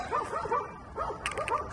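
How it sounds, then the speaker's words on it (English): Four dogs in a backyard bark in quick, yapping bursts, several overlapping barks and yips at moderate distance, fairly faint. "4 dogs in that backyard."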